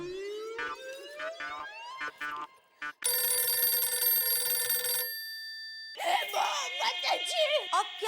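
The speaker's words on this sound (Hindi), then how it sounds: "मेरा फोन बज रहा है।" A mobile phone rings with a loud electronic ringtone: a rising tone, then a sustained chord of steady bright tones that cut off sharply, followed by a voice and music.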